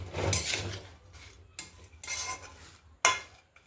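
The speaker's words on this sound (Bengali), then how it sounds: "একটু নাড়াচাড়া করিয়ে দেব যাতে হলুদটা পুরোভাবে মিশে যায়" A spoon stirs shredded cabbage with turmeric and a splash of water in a pan, making uneven bursts of scraping and rustling, with a sharp clatter toward the end.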